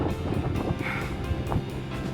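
Strong, cold wind buffets the area at the north exit of the Atal Tunnel in the snowy Himalayas near Manali, a steady blustery rush with gusty swells and no speech.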